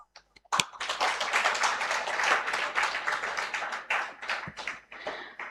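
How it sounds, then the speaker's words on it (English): Loud, dense applause from a conference audience at an international scientific conference on AI in research, sustained for several seconds after a few scattered early claps. "Let us celebrate this moment with a big round of applause."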